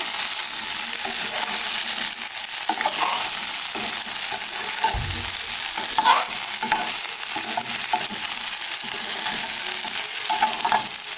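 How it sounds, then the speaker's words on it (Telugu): Okra being stirred in a hot yogurt tempering, a steady close sizzle with scraping spoon strokes and occasional clinks against the pan throughout. "బాగా కలుపుకుందాం."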